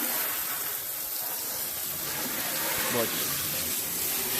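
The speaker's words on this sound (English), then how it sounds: "spray it out" Water sprays hard and steadily across the stripped interior of a flood-damaged Honda car, a loud continuous gushing hiss, with a brief spoken word over it.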